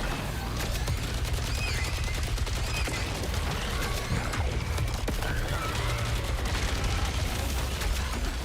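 Rapid in-game gunfire from the video game Saros, a dense run of shots and impacts layered over a steady low rumble of music and effects, loud and continuous throughout.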